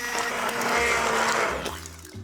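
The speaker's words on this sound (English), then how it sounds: "using an immersion blender or a normal blender," A blender whirs loudly and steadily, pureeing dried fruit with lime into a smooth paste, then the motor winds down near the end.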